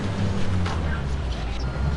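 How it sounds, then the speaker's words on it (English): A tractor engine in the video game Construction Simulator 2 drones with a steady, low, continuous rumble that stays close and even throughout. "It's hard to hear in this tractor a little bit."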